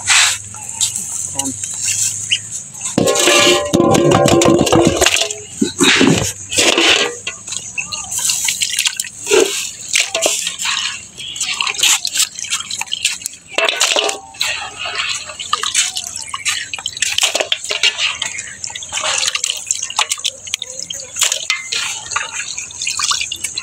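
Tap water runs steadily while meat is washed for a large home feast, with splashing and dripping against a basin and a loud gush early on. Someone talks over the water throughout.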